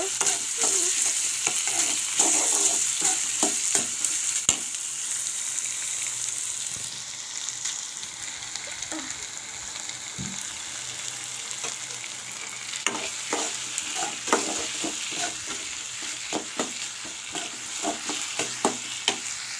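Dry fish (shidol shutki) and onion frying in a pan as a chutney is made, a steady loud sizzle with frequent scraping stir strokes throughout, close and continuous with no talking.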